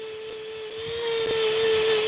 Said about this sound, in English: when I drill the hole